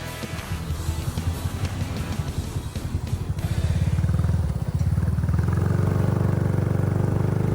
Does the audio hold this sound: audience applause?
no